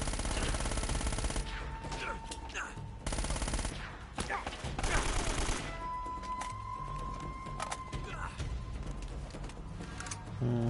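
Gunfire in Uncharted: Drake's Fortune, with loud bursts of shots and rapid fusillades recurring throughout amid busy game noise, including a steady tone and other effects.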